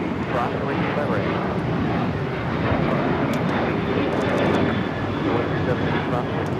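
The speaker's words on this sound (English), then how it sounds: "That is Alaska Airlines 1315 taking off to Portland with 737-800" Alaska Airlines Boeing 737-800 jet taking off at LAX bound for Portland, a steady, loud broadband engine roar that holds throughout with no break, heard from a distance.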